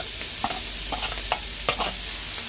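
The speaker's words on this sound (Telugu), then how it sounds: "దీంట్లో మనం ఫ్రై చేసిన చికెన్ కూడా వేసేసుకోవాలి" Noodles and fried chicken stir-fried in a pan make a continuous soft sizzle, broken by a few close utensil scrapes and taps against the pan, with no voices.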